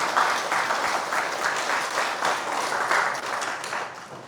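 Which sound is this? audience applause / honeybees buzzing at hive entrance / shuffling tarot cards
audience applause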